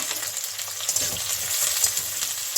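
Onions frying in hot oil after bay leaf tempering, a bright, continuous sizzle close by with faint stirring scrapes, and no voices.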